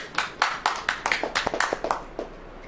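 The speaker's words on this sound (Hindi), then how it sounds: "ताली वाली बजाएं।" A church congregation claps hands together in a steady, even rhythm, with crisp, fairly close claps that run continuously and have no talk over them.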